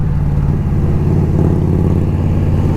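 An Indian Scout motorcycle rumbles loud and close during a weekend ride, its engine a deep pulsing drone with a slight rise in revs, heard alone without voices.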